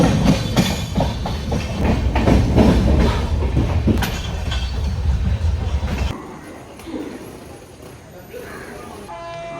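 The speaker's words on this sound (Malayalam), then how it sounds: "നമ്മൾ ട്രെയിനിലാണ് കാര്യം." A passenger train runs on rails toward Madgaon in Goa, heard from aboard as a loud rolling rumble with rhythmic clatter and a horn for about six seconds, then a quieter, softer ride with faint voices.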